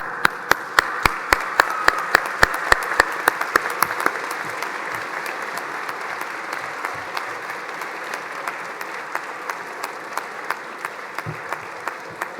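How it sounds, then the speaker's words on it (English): An audience at a college winter graduation ceremony claps, a few strong, sharply spaced claps standing out over a steady, full round of applause that continues throughout. "give them a huge round of applause as a thank you"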